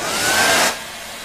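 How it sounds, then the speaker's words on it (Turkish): A handheld hair dryer switches on and blows with a loud, breathy whoosh for under a second, then eases to a softer steady hum. "Ya bu fön açsam biz ayıp olur mu?"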